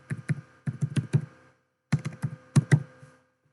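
Keystrokes on a computer keyboard in two quick bursts of close, crisp tapping separated by a short pause, with no voices present.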